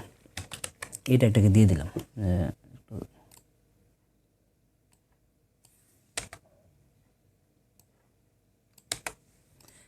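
Computer keyboard typing while HTML code is written, with quick clicky keystrokes in short bursts around a stretch of speech early on and a few isolated key taps later.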